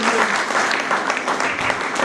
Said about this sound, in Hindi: एक बार आप लोग खुले मन से ताली बजाइए